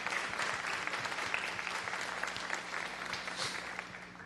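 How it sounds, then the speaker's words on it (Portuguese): A church congregation applauding during a service, a dense, steady wash of many hands clapping together at moderate distance, sustained evenly for about four seconds with no voices standing out. "Vamos aplaudir ao Senhor, que é verdade"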